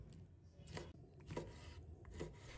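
Knife slicing squid into rings on a cutting board, a few soft, separate chops spaced about half a second apart, quiet and close.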